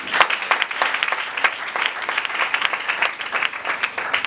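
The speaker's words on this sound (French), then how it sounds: "Acclamons pour le Seigneur." A church congregation claps in praise to the Lord, the applause sounding brisk and rhythmic with sharp, repeated hand claps that hold a fairly even level from start to finish.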